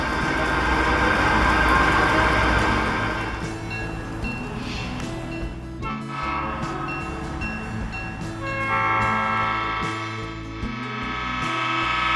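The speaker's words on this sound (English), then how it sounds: "As the train zooms by with the train excursion from the museum" A museum excursion train rumbles past at close range at the NC Transportation Museum in Salisbury, North Carolina, loud and sustained, with its horn sounding in long tones as it goes by.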